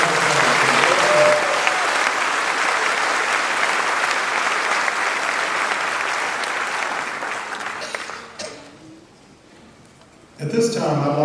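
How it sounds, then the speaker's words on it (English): Sustained applause from a large audience at a Weatherford College commencement ceremony, steady and dense for about eight seconds before fading out, then picking up again briefly at the end. "let's give all these individuals another great old round of applause"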